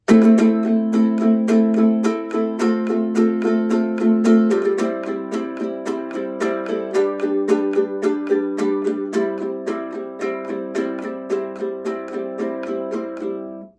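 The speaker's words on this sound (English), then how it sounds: "we're going to add a couple extra fast and fun strums there" Quick, bright strummed chords on a ukulele, a steady run of crisp down-up strokes changing chords partway through, played alone.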